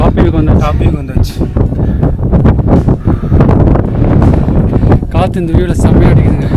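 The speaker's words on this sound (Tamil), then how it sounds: "காற்று இந்த வியூவில் செம்மையாக அடிக்குதுங்க." Strong wind blows across a hilltop viewpoint at Thangal Para in Vagamon. It rumbles and buffets the microphone in loud, gusty bursts, and people talk throughout.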